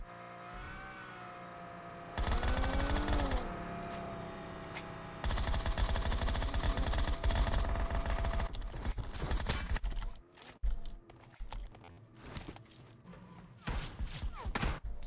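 Dense, loud automatic gunfire in the PUBG Mobile battle royale game, sustained bursts mixed with a vehicle engine revving, then broken up into sporadic shots and clatter.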